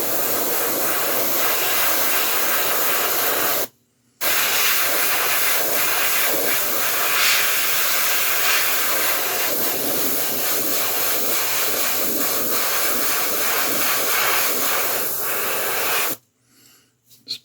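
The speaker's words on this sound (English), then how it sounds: "I'm going to mist this on top" Steady hiss of mist being sprayed over a sculpted 1/6 scale Predator figure, a continuous loud spray with a brief pause near four seconds and a stop near sixteen seconds.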